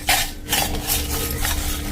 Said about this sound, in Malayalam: ഇനി നമുക്ക് ഒരു മിക്സിയുടെ ജാറിലേക്ക് കോരി മാറ്റാം